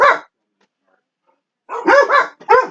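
Dogs bark excitedly at a grocery delivery, with one loud, close bark followed after a pause by a rapid cluster of three sharp barks.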